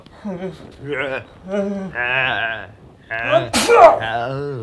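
A sneeze voiced as Darth Vader's breaks out near the end, amid short spoken lines and a reply from another voice.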